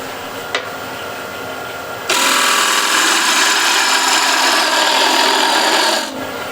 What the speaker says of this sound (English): this gouge now is getting really too thin for this extension here, so I'll use this bigger one